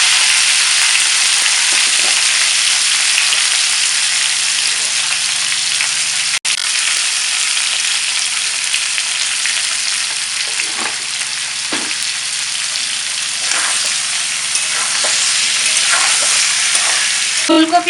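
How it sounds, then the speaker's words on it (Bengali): Cauliflower and potato pieces fry in a pan with turmeric and salt, giving a continuous, even sizzle with occasional stirring scrapes, close and alone. "ফুলকপি আলু লাল লাল করে ভাজা হয়ে গেছে।"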